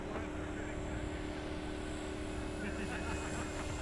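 An FMS 1700mm Corsair V3 RC model airplane, fitted with a new propeller and running on 6s or 8s power, rolls out on its wheels after landing, giving a loud, continuous propeller and motor drone that stays close and steady.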